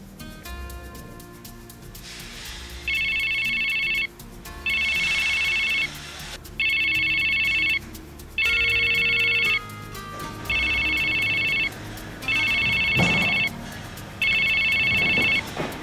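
A telephone rings in repeated electronic bursts, about seven evenly spaced trills with short gaps, loud and close against a quiet room background.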